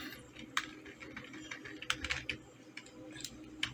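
Quiet, irregular clicking of keys being typed on a computer keyboard into Microsoft Word, with sharper taps scattered through the soft, continuous keystrokes.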